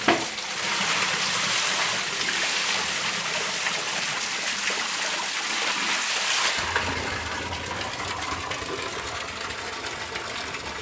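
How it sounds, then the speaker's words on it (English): A natural spring in Barbados runs loud and steady, a close rushing gush of water filling a container, a continuous broadband wash that shifts slightly in tone partway through. "I'm gonna fill some water here"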